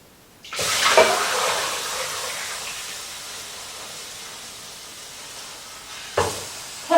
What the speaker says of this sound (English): I can pick that up and pour it now